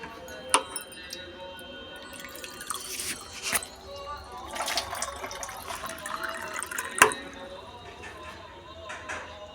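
Drinking water is poured at home, with soft trickles and scattered drips and splashes spread unevenly through the stretch while people talk quietly nearby.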